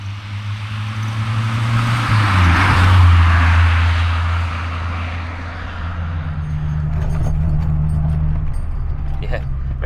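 A Mk2 Golf GTI accelerates hard into a corner, its engine rising in a loud droning pull that eases briefly and then builds again, heard from inside the car with a voice speaking over it.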